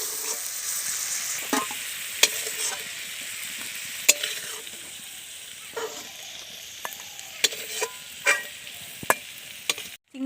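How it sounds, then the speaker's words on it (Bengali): Shrimp frying lightly in oil in a pan, a steady soft sizzle broken by several sharp spatters and the scrape of stirring, close by, with no talking. "এবারে চিংড়িটা আমি হালকা করে ভেজে নেব"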